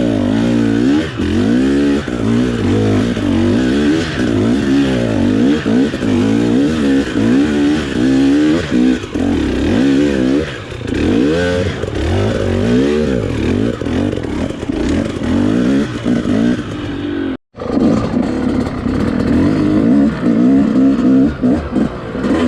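A KTM 250XC TPI two-stroke dirt bike engine lugs loudly and steadily up a very steep, loose, dry hill, its low pulsing drone rising and falling with throttle before a brief cut near the end.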